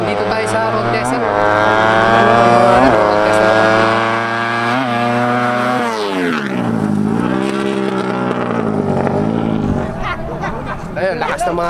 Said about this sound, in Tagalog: lakas ng mga motor dito mga kabiker.